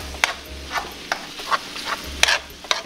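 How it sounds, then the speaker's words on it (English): Ground beef, rice and pepper filling is mixed by hand in a pan, a series of quick scraping and clacking strokes at an uneven rhythm over a low hum, with no talking. "All right, now we can mix it all up."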